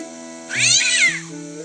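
A cartoon cat in the video game Day of the Tentacle lets out one clear, loud meow over looping game music, rising and falling for under a second.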